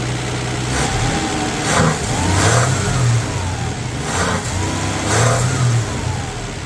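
A 1965 Plymouth Valiant 100 slant six with a slightly sticky throttle revs in several short blips, rising and falling over a steady idle, loud and close with no talking.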